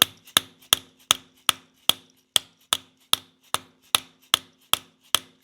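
Sharp, evenly spaced hammer blows strike a pilot bearing in an engine about three times per second, close and loud, each ringing briefly before the next.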